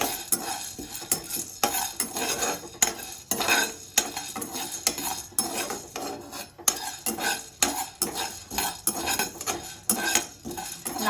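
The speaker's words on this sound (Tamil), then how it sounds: "கொஞ்சம் மிதமான அனல்ல வச்சுட்டு வறுத்தா நல்லா இருக்கும்." Chana dal lentils roasting in a pan over medium heat, stirred with a metal spoon in a steady rhythm of scraping, rattling strokes, close and fairly loud with no voices.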